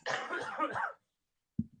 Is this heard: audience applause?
no